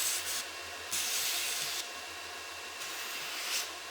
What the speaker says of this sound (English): I'll round over the corners using a 240 grit slack belt